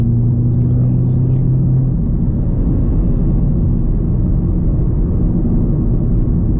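Turbocharged Audi S3 engine spooling up while driving, a loud steady low rumble filling the cabin throughout, with a brief higher whistle early on.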